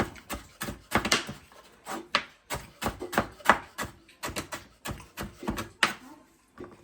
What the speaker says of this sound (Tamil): இங்கே வேணும் கேரட் இப்படி வெட்டி போட்டு இப்படி வெட்டி எடுக்கணும் நீட்டாக.